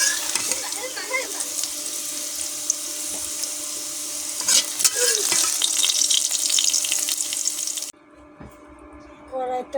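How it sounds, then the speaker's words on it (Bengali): Potatoes frying in soybean oil in a kadai, a steady dense sizzling hiss for about eight seconds before it suddenly drops to a much quieter background. "দেখুন বন্ধুরা, আলু লাল লাল করে ভাজা হয়ে গেছে।"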